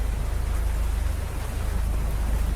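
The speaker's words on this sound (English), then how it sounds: "it was basically just the rain and us walking in the woods" Rain falls steadily in the woods in the indie horror video game A Path in the Woods, a constant even hiss with a deep low rumble beneath it and no voices.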